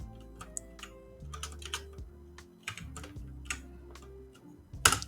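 Keys clatter on a computer keyboard in quick irregular bursts, close and fairly quiet over a faint background hum, with a sharper keystroke at the very end.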